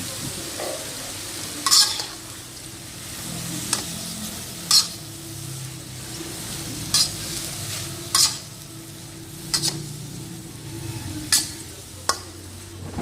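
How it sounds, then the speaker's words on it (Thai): White shimeji mushrooms stir-fried in a pan, a soft steady sizzle under repeated sharp scrapes of a utensil against the pan every second or so, close up, with no talking. "ดี๋ยวเราก็คั่วคลุกเคล้าให้เข้ากันนะครับ"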